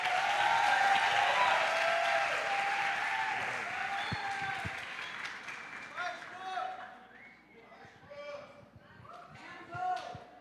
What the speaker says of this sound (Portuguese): Vamos receber com palmas nosso querido pastor Bruno Alves.